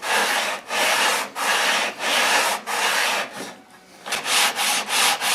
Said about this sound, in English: we put some sandpaper on, and he's going to use that to make a matching surface on the other half